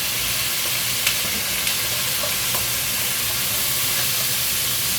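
Fresh pork frying in hot oil, a loud, dense, continuous sizzle and hiss with scattered small pops of spattering fat, close up and without speech.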